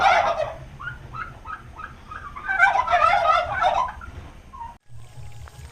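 Turkeys gobble repeatedly, a loud close burst of rapid warbling calls followed by more gobbles, with no talking.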